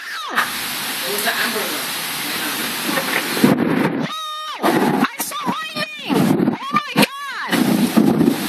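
Loud, rumbling thunder crashes during a violent thunderstorm in New York City, with heavy low booms near the start and toward the middle, and people talking and exclaiming over it through much of the stretch.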